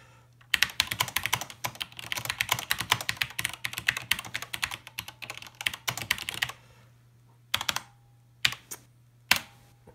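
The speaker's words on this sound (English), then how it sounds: "It's asking me to type a message." Keys clatter rapidly and close up as a message is typed on a SWTPC 6800 computer terminal keyboard. A low steady hum runs underneath, and the typing thins into a few isolated keystrokes at the end.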